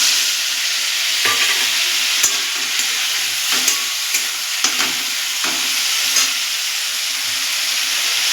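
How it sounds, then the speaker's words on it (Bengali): Pumpkin pieces fry in hot oil in a home kitchen as cumin and turmeric go in, giving a steady close sizzle broken by repeated scraping strokes of a spoon stirring in the pan. "ভাজা ভাজা হয়ে গেছে, এর মধ্যে আমরা জিরে আর হলুদটা দিয়ে দেবো।"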